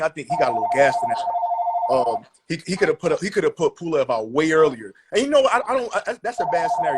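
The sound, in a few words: mobile phone ringing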